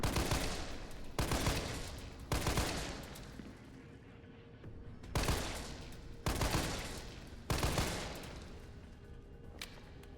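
Assault rifle gunfire in Resident Evil 3, several loud heavy bursts that each decay into a long rumbling tail, close and dominant, with no talk.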